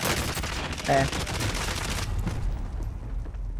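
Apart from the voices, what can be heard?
gunfire in a shooting video game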